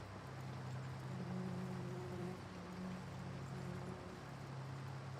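A tractor engine idles at low RPM in a farming video game during anhydrous ammonia application and tillage work, giving a steady, low, humming drone with a faint throb throughout and no talking.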